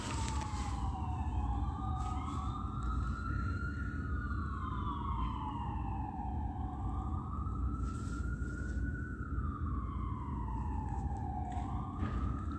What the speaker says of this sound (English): the state is patrolling with the sound of amplified sirens